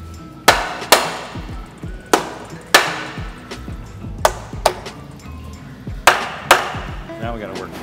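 Sharp metallic hammer strikes on a Porsche engine case land irregularly, about a dozen blows in clusters, close and loud over a quiet background.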